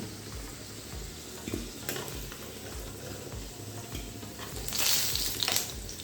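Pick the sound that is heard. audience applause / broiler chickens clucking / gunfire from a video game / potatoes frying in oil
potatoes frying in oil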